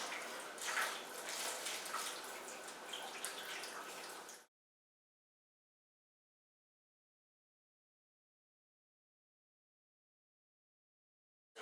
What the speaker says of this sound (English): I'm just going to dump some water in.